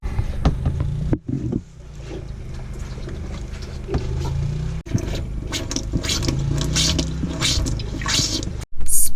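Foot pump on a sailboat pumping fresh water, a steady gurgling, splashing flow with scraping strokes, close and fairly loud, pausing briefly between pumps.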